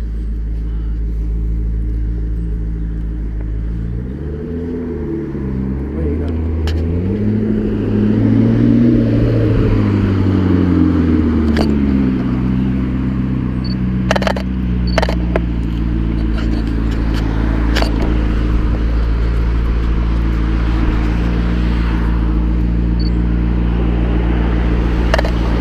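Several McLaren sports cars at a McLaren gathering at Ascot, engines rumbling steadily with a rising rev sweep partway through, continuous and fairly near.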